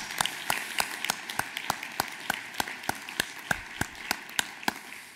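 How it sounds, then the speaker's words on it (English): An audience at an economic summit applauds sponsors with sparse, evenly spaced claps, fairly faint and sounding like a modest crowd in a large room. "let's just give them a round of applause for stepping forward"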